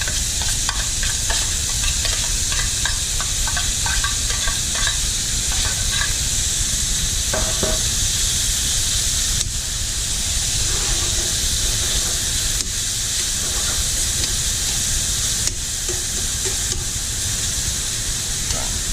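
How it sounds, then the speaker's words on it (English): Bacon frying in olive oil over low heat, giving a steady, close, continuous sizzle and hiss with occasional stirring clicks throughout. "get this bacon started. It's just on a low heat because we're cooking in olive oil"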